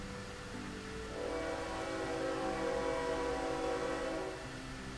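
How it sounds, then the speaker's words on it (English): A train horn sounding as a long, steady blast with sustained tones, swelling slightly in the middle before easing back, faint and distant with a low rumble of rail traffic beneath and no voices. "And also sorry for the train horn"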